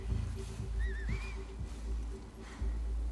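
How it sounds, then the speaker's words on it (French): Two short pitched whistles ring out in the video game The Last of Us Part II, a rising-and-falling pair in quick succession over a quiet low ambient hum. "Deux sifflements."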